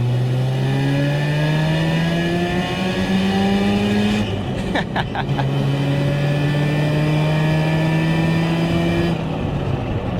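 A 1982 Mazda RX-7 rotary engine revs loud and close throughout, its pitch sweeping up and down through several steady climbs, with a brief sharp dip in the middle before it winds up again.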